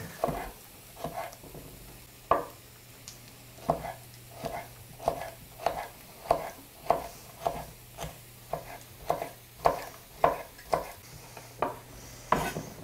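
A knife finely slices halved, de-seeded chilies on a board for a pork and pineapple stir fry: about twenty crisp, evenly spaced chops close by, with a low steady hum underneath and no talk.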